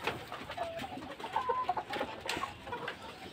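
Farm chickens kept with young chicks cluck softly and intermittently from nearby, a few short calls rising over quiet background rustle.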